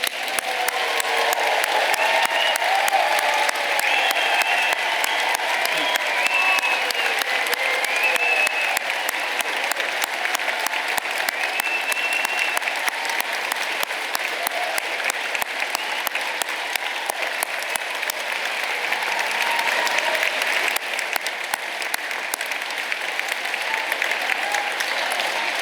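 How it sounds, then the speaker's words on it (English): Sustained, dense applause from a large audience cheering graduates at a university degree ceremony in Newport, a loud, even wash of clapping lasting the whole stretch with no speech on top. "let's start today's ceremony by giving all of our amazing graduates a huge round of applause"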